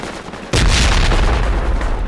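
A frag grenade detonates in the Project Reality video game, a sudden loud boom that hits hard and then rolls on as a long, heavy rumble and rush lasting a couple of seconds, standing alone with no talk over it.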